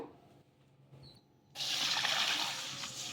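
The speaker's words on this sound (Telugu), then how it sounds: "ఇప్పుడు వీటన్నిటిని కూడాను మొత్తం కలిపేసుకొని నీళ్ళు వేసుకొని ఒక 2 సార్లు వాష్ చేసేసుకుందాము" Lentils and fenugreek seeds being washed in water in a kitchen: after a quiet moment, a steady loud rush and slosh of water starts up and continues to the end.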